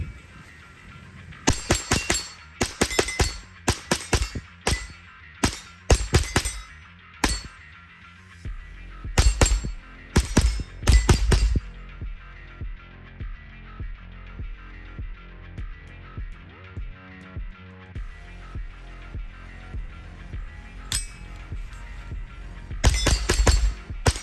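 JP-15 .22 Ultralite rifle firing standard velocity ammunition at a range, a series of sharp reports in quick clusters, then a long quiet stretch and a final short burst, loud and close.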